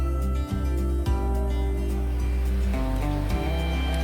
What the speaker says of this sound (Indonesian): Nah, itu suara daripada MOSFET-nya.